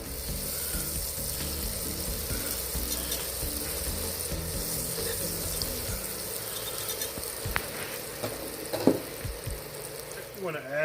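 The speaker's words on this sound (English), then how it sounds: "let's get to melting the butter." Three tablespoons of butter melt in a pan at the start of a gorgonzola cheese sauce, making a soft, fairly faint sizzle with a low background hum and a few small clinks near the end.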